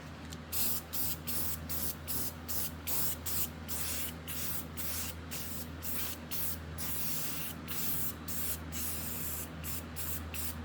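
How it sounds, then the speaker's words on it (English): Spray gun powder coating a metal part, a steady close hiss broken into quick, regular pulsing bursts over a low constant hum, without speech. "Now I can finally powder coat this thing."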